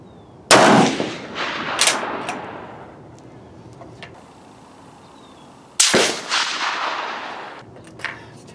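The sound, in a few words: five gunshots fired at a shooting range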